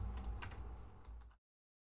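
Quiet typing on a computer keyboard during coding practice, a short run of soft, rapid key clicks close by that stops abruptly.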